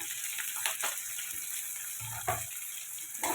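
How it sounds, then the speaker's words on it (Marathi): Finely chopped onion hits hot oil in a pan with garlic and green chilli, giving a steady sizzling hiss with a few louder crackling bursts, close by and with no talking. "आता लगेच ह्याच्यामध्ये आपल्याला टाकायचा हा बारीक चॉप केलेला कांदा"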